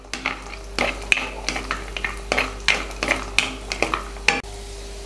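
Raisins roasting in ghee over a low flame for kesari, a steady sizzle broken by repeated scraping strokes of a spoon against the pan, close and fairly loud with no voices.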